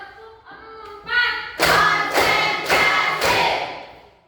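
A class claps out a rhythm in a classroom clapping game: four sharp group claps in an even beat, loud and close, after a brief moment of voices.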